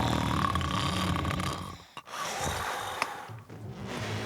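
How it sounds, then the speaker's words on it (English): A bearded ship captain snores loudly while rocking in a hammock deep inside a ship's hull, giving long raspy drawn-out breaths with a brief pause between them. "its bearded captain, the rugged Rutabug, snored loudly, rocking back and forth in a hammock"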